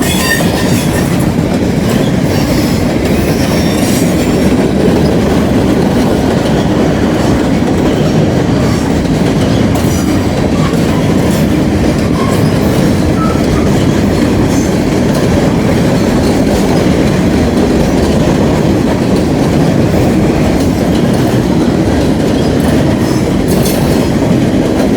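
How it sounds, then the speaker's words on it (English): A long freight train rumbles steadily past, with continuous clattering of wheels over rail joints and a dense, loud roar throughout, no voices. "there's got to be several trains behind him yet"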